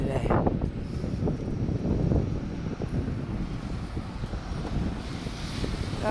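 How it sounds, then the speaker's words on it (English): Wind out of the north blows outdoors during a walk in a town, producing a constant loud, low rumbling buffet against the microphone with gusty surges and no clear speech. "Wind hit me in the face when I came around the corner."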